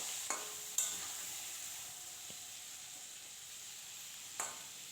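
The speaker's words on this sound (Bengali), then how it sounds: "আলতো হাতে একটু নাড়াচাড়া করে ভেজে নেবো" Small crabs with salt and turmeric fry in a pan of oil, a soft steady sizzle broken by a few sharp scrapes and clacks of gentle stirring, with no talking.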